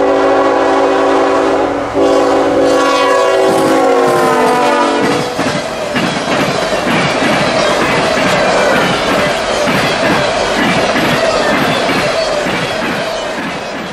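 A CSX freight train on a main line through Nahunta sounds a loud, sustained horn, then its cars roll by close with steady rumbling and clattering wheels that fade slightly at the end.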